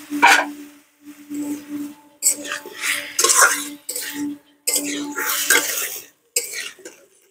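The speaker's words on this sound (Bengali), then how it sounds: "সবজিগুলোকে কষিয়ে নেবো।" Raw banana and papaya pieces with spices are stirred in a pan, a metal spoon scraping and clinking against the cookware in irregular bursts with brief pauses between.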